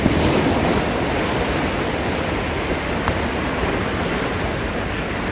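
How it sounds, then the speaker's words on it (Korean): Heavy, high ocean waves breaking continuously on the rocky shore of the east coast during a surf-zone sea bass wading trip, a loud, steady roar of surf with no speech. "파도가 치고 있습니다. 높게요."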